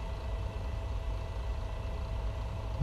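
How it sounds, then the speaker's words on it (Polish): The first engine of an Airbus A320 in the FlightGear flight simulator spools up: a steady low turbine rumble with a faint high whine, continuous and fairly close. "I obserwujemy, że tutaj właśnie rozkręca nam się teraz silnik."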